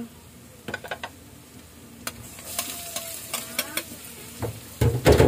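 Lightly fried eggplant and tofu sit in a pan for binagoongan. A faint sizzle runs beneath sharp utensil taps and clinks, and the sound grows louder and busier near the end.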